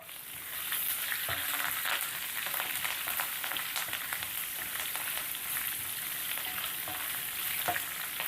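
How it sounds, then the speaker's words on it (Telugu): Green chilli slits, dried red chillies, asafoetida and curry leaves crackle in hot oil as tempering for gongura pulihora, a close, continuous sizzle with stirring and no voices. "పచ్చిమిర్చి అన్నది మరీ పూర్తిగా వేగక్కర్లేదండి. కొద్దిగా వేగితే చాలా బాగుంటుంది"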